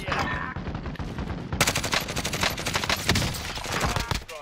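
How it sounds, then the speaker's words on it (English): Dense bursts of gunfire rattle through an Armored Royale firefight, rapid overlapping shots from several weapons, loud and continuous, with a brief voice faintly underneath. "I'm getting shot at from down low on the street."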